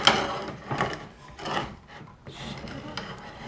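A large tap cutting threads into a wooden nut makes rhythmic rasping bursts of wood being scraped and cut, close and moderately loud, each stroke followed by a brief pause.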